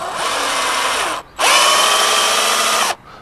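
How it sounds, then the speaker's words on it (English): Power drill boring a small hole through a car door's rubber seal, two loud steady whirring bursts, the first about a second long, then a brief pause and a longer second run, close up with no talk. "Pick the best spot and then drill a small hole through the"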